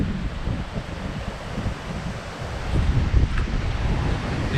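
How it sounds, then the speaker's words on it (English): Wind gusting and swirling outdoors in the Victorian bush, buffeting the microphone in a steady rough roar that swells louder near the end, with no talk. "This wind was coming in our face this way, now it's coming from behind me, so it's just swirling all around."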